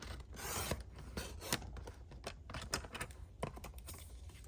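Scissors or a blade cut through craft paper while making matchbook tickets, giving a rapid series of close, dry snips and rasping strokes, steady and unaccompanied by talk.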